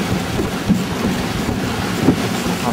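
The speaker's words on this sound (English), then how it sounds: "here's a pretty grey day sailing on the coast of Holland" A CATRI 24 hydrofoil trimaran sails along the coast of Holland on a grey day, with steady broadband wind rush and water noise buffeting the microphone throughout.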